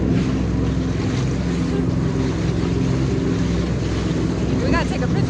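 A jet ski engine runs at low speed, about two miles per hour, with a steady, close low drone and wind buffeting the microphone throughout.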